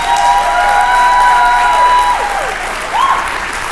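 A banquet hall crowd claps steadily at an awards and hall of fame dinner, a dense, loud wash of applause lasting a few seconds, with faint tonal ringing and a scattered voice or two underneath.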